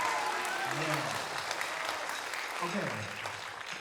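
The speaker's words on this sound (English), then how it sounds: "Put your hands together preliminarily for the full storm of applause for Peggy Stern" An audience applauds bandleader and composer Peggy Stern at a masterclass, with steady, full clapping throughout as people speak briefly over it.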